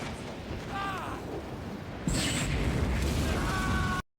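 A bomb blows up an alien in the 2010 film Alien vs Ninja: after a few seconds of low rumbling ambience, one sudden loud blast hits and its roar holds for about two seconds, then cuts off.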